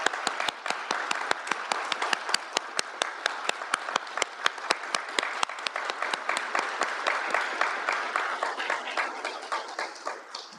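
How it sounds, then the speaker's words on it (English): Audience applause at a law school honors convocation, a dense sustained wash of many clapping hands with a few sharp louder claps standing out, steady for about ten seconds before thinning slightly near the end. "Please join me in a round of applause to congratulate everyone"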